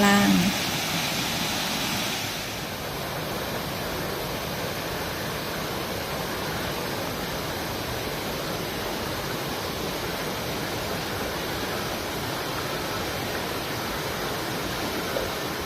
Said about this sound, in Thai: น้ำตกที่นี่มีขนาดไม่สูงมาก และมีลักษณะกว้าง ไหลผ่านลานหินทำให้เกิดแอ่งน้ำด้า